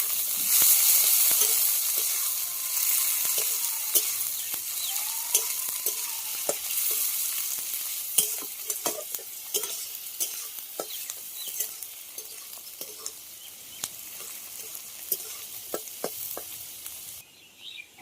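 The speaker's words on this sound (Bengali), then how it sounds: "কুচি করে রাখা পেঁয়াজটা তেলের উপর দিয়ে" Chopped onion sizzles steadily in hot oil over whole garam masala spices for an Indian-style jackfruit chicken curry, with scattered clicks and stirring scrapes from a spoon, loud and close with no talking.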